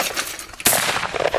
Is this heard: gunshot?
yes